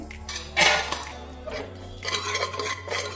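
A spoon mixes spices and garam masala into a pavta bhaji in a metal pan, making close, repeated scraping and clinking against the pan. The stirring is steady, with a louder clatter early on and no talk.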